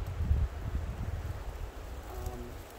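Wind gusts outdoors in Bear Canyon, a low rumbling buffet against the microphone, strongest at first and then easing, with no voices.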